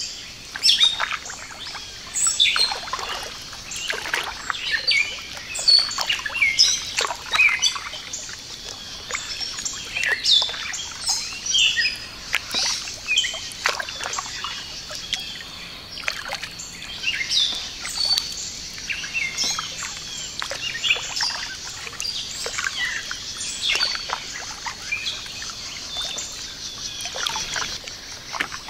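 Birds chirp and sing continuously in the open air over a misty lake in the early morning, bright repeated calls from several directions over a quiet background with faint water sounds.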